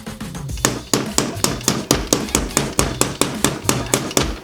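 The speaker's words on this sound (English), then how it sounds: "So first up, we'll just try it with just a straight up hammer." A hammer strikes a plastic toy dinosaur egg from ZURU Smashers Series 3 again and again, about a dozen sharp, loud knocks at a steady, quick rhythm with no talking.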